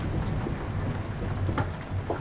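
Steady rain falls in American Truck Simulator as a truck drives off-road, a dense, even patter with a low rumble under it and no talk.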